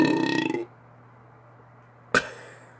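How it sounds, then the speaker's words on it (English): A long, loud, close burp with a buzzing tone is followed by a near-silent pause and then a short sharp sound. "A burp could have been better."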